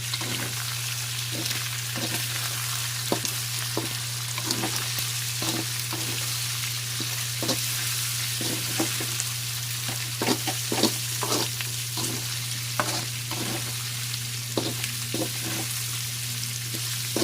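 Crispy pork and shrimp paste (bagoong alamang) frying in a pan, a steady close sizzle broken by repeated clacks and scrapes of a utensil stirring at an irregular rhythm, with no talking.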